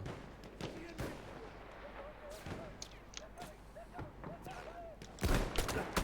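Battlefield 1 gunfire sounds as faint, scattered shots and distant artillery-like thumps within busy game ambience, with a heavier burst near the end.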